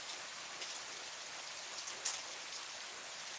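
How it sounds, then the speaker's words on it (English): Rain falls outside in a steady, dense hiss with occasional louder drops, continuous and fairly even throughout, with no voices. "It's raining like crazy."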